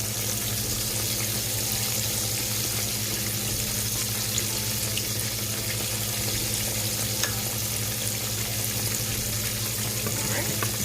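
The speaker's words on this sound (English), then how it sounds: "this is how your fish should look when it is cooking" Fish frying in a pan makes a continuous close crackle and sizzle at an even level, with a low steady hum underneath and no talking.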